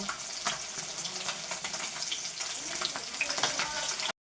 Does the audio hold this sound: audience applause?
no